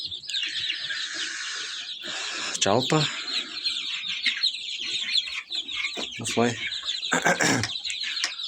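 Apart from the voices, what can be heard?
chicks and chickens chirping and clucking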